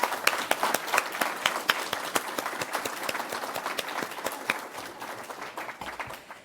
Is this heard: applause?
yes